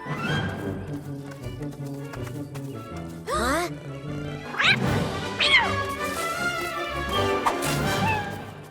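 A cartoon cat in a Turbozaurs animated episode gives several short, rising meows over background music and sound effects.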